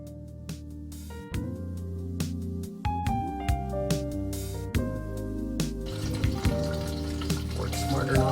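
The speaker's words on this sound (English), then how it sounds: "Now I'm gonna add my water." Water is poured into a big metal pot holding black bear parts for stock, with splashing and hollow metallic ringing and clanks as the stream hits and the pot fills.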